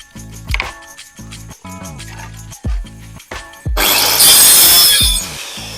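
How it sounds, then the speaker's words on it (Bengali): Pieces of khiris wood are sawn by hand into small mounts for orchids, producing a run of rhythmic, loud rasping strokes with brief pauses, then a denser, brighter stretch of cutting near the end. "আমাকে তাই জন্য আমি কাঠ কাটছি এখন"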